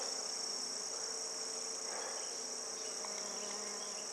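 A bee buzzes around morning glory flowers outdoors, a steady insect hum mixed with cricket-like chirring that holds evenly through the whole stretch at a moderate distance, with no talking.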